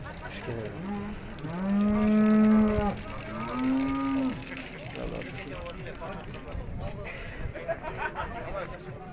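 Cows moo in long, loud calls at a busy cattle market in Urzhar, two drawn-out bellows close by over crowd chatter and people talking around the pens.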